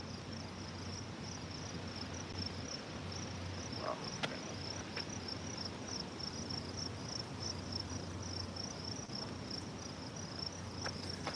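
Several crickets chirp steadily through the night in a high, continuous pulsing trill, with a low background hum and a few faint clicks beneath.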